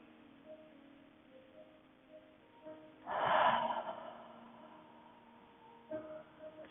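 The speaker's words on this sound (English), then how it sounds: "Let's take a few deep breaths in through the nose." A single slow, deep inhale through the nose during a beginner's yoga session, a soft breathy rush that swells mid-clip and fades, heard close and alone in a quiet room.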